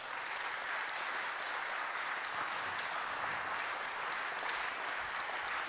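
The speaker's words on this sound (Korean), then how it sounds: "다이애나케를 위해서 다시 한번 따뜻한 박수 부탁드리겠습니다." A concert audience gives warm, sustained applause to the Korean traditional music ensemble Diana K at a 2020 Baroque music festival, a dense, steady wash of many hands clapping with no voices.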